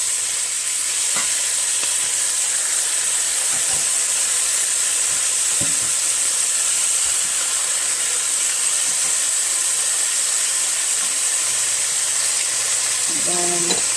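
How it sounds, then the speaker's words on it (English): Chicken thighs searing in a pan for a keto Thai green curry, giving a steady close sizzle and hiss with faint scattered clinks and clatter, no talking. "Then I'm gonna sear it for another 5 minutes."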